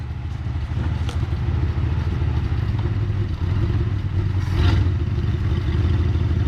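A 1963 Ford Fairlane 500 with a 260 V8 rumbles steadily, close and loud, as it is put in gear and pulls away, with a brief surge in the engine partway through.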